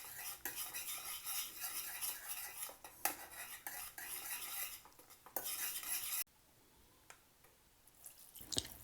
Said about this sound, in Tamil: நம்ம இப்போ எடுத்து வச்சுக்கிற உளுத்த மாவையும் அரிசி மாவையும் கொஞ்சம் கொஞ்சமாக சேர்த்து கிளற போகிறேன்